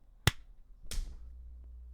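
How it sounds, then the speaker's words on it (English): Two sharp hand claps at the start of a recording, the first a crisp, loud snap and the second softer and more smeared, close up in a quiet room. "we're going to clap in 3, 2,"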